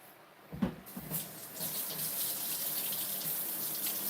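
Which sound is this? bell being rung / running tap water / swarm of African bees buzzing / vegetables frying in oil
running tap water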